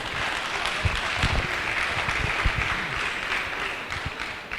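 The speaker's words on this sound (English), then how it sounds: "Let's clap as he comes to the podium." An audience at a university pre-convocation lecture clapping as a professor comes to the podium, with steady, moderately loud applause and a few louder individual claps standing out.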